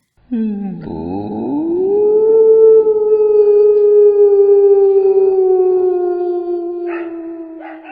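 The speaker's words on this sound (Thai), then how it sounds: "พร้อมๆ กับเสียงหมาหอนหอยหวน" A loud, close dog howl used as a sound effect in a narrated horror story rises from a low start into one long sustained mournful tone that slowly fades, heard alone.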